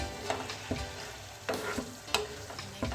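Dry spices, including coriander powder, stirred into white beef keema frying in a pan: a quiet steady sizzle with regular scrapes of the spoon against the pan, about one every half second, heard alone.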